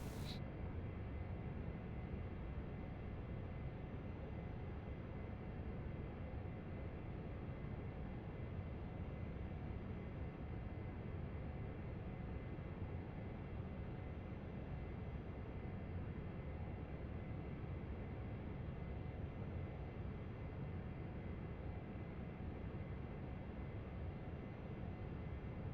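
Simulated AJS37 Viggen jet taxiing in a flight game, a steady, dense engine roar that holds constant and unbroken throughout.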